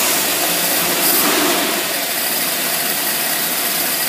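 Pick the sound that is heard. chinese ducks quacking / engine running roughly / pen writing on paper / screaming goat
engine running roughly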